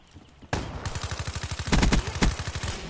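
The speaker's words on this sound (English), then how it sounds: "It's only machine guns." Machine gun fire in Black Ops 3, a video game, arrives as a sudden loud burst of rapid, evenly spaced shots that keeps going as a sustained stream, with a few heavier thumps mixed in.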